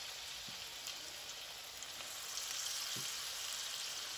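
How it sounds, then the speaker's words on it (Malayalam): Steady, close sizzling of cauliflower (gobi) pieces shallow-frying in oil in a pan for chilli gobi, a continuous crackling hiss with a few faint clinks. "നമുക്ക് ഓരോന്നായിട്ട് ഇട്ട് കൊടുത്ത് ഇത് ഫ്രൈ ചെയ്തെടുക്കാം"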